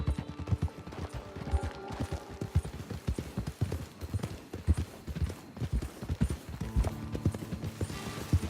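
Horse hooves clip-clopping steadily at a trot in Red Dead Redemption 2, loud and close with a continuous rhythmic beat and some faint background game noise.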